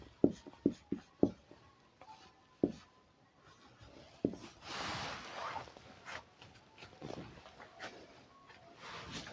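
Pen or chalk taps out a quick series of sharp strokes as numbers are written for a science lesson, then scratchy writing with bursts of rustling, close and fairly quiet.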